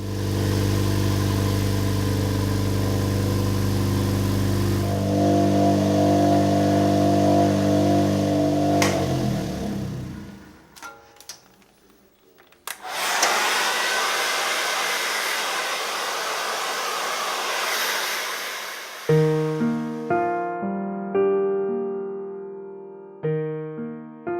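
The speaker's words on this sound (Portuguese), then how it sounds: "vai à máquina das esferas para dar um brilho final" A ball tumbler machine spins gold jewellery among polishing spheres for a final shine, giving a loud, steady motor hum with a droning tone that shifts midway into a broader, rougher whirring, with no one talking.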